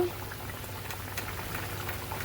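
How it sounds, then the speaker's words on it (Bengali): Egg curry gravy boiling in a pot, a steady close bubbling and popping simmer running continuously on its own, with no talk over it. "দেখো যে ঝোলটা ফুটে উঠেছে।"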